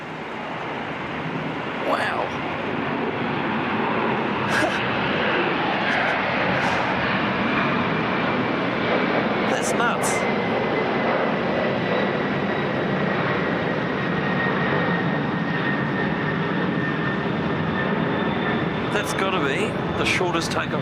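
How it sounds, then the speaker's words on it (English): An airplane taking off at Auckland Airport, a steady sustained engine roar heard from a distance through the whole stretch, with a rising tone and occasional sharp clicks nearby. "shortest takeoff roll I've ever seen"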